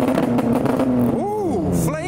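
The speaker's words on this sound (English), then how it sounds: "I think it's the law for the Supra to rev," A Toyota Supra at an outdoor car meet, its engine revving with a rising and falling pitch over a steady idle drone, heard close amid crowd chatter and people talking.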